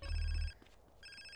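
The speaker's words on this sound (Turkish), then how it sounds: "Telefon çalıyor." A telephone rings once in the GTA San Andreas video game, a clear electronic ring with a low buzzing tone, then a short pause before the ring starts again.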